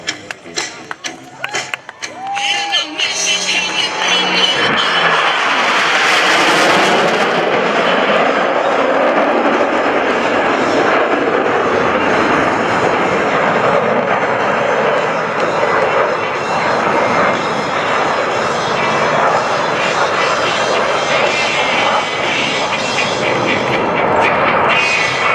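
US Navy Blue Angels jet aircraft roar past at a 2012 joint services open house air show, a loud, sustained engine rush that swells and lingers for many seconds over a crowd and background commentary.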